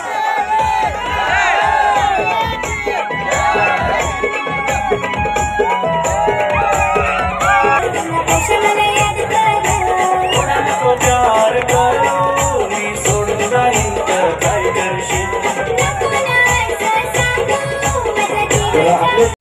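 A crowd at a village cricket premier league tournament cheers and shouts nonstop, a dense, loud roar of many voices with whoops, some voices talking within it.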